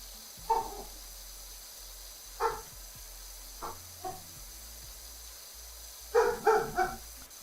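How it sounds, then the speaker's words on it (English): A dog barking in the video game Nikke, several separate sharp barks spaced apart and then a rapid cluster of three near the end, clear over a quiet low game hum. "Is it typical for canines to bark this much?"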